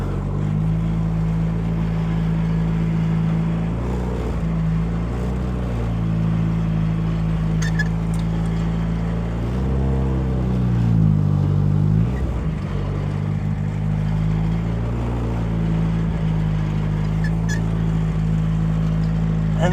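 A rusty, low-riding Mazda Miata with a snapped steering shaft drives over dirt, its engine giving a steady low drone that rises briefly, with faint crunches and rattles from the ground throughout.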